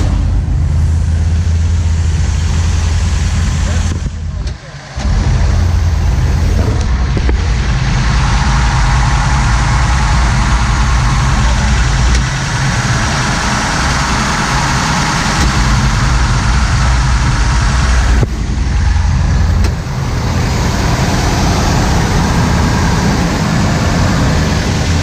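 A 1993 Wellcraft Scarab 31 Thunder boat's engine compressor runs steadily with a deep, loud engine rumble throughout, dipping briefly twice, with no talk over it.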